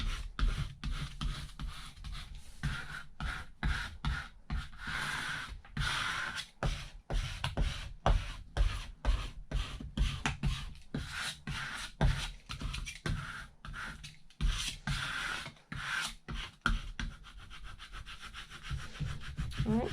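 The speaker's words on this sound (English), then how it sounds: "I'm just going to go ahead and take my scraper tool here." Plastic scraper rubbing steadily over a vinyl decal on a transfer sheet, with repeated close, dry strokes in an irregular back-and-forth rhythm and brief pauses between passes.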